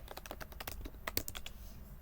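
Rapid keystrokes on a computer keyboard, a quick irregular run of close, crisp clicks filling two seconds with no talking.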